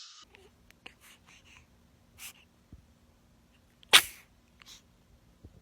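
A baby sneezes once, a short sharp burst near the middle. Quiet room sounds and faint breathy noises come before and after it.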